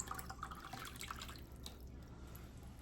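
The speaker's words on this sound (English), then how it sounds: "fill with water" A pot fills from a kitchen tap with a quiet, continuous running-water sound. Faint splashes and drips fade away toward the end, and nobody speaks.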